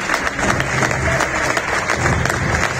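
An indoor audience clapping together, a dense continuous wash of many hands with slight swells, fairly close and loud, with faint crowd murmur underneath.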